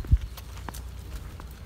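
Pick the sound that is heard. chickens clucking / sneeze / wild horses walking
wild horses walking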